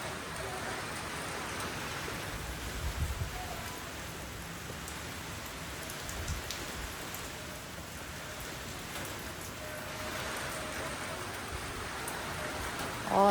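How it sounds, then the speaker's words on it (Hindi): Rain falls on leaves and ground among trees in cold weather in Canada, a soft steady patter with scattered drips, fairly quiet and continuous with no speech. "ये कतरे गिरते हुए खूबसूरत बारिश"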